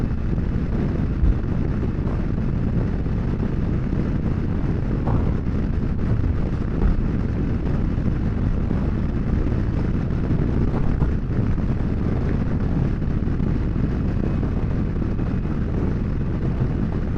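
Steady broadband wind roar buffets the microphone throughout while riding a Kawasaki Versys X300 motorcycle on a chilly canyon run at around 40, a continuous low rumble with no speech.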